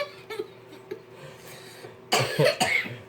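Someone coughs in a kitchen while people cook dinner together, a few short throat-clearing bursts early on, then a louder, harsher cluster of coughs near the end, close to the listener.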